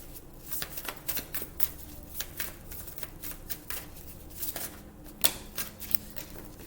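Tarot cards are shuffled in a quick run of crisp, papery riffles and flicks, close and fairly quiet, with one sharper snap near the end and no one talking.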